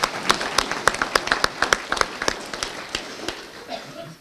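An audience gives a brief round of applause at a morning show, with irregular sharp claps that thin out and fade over a few seconds.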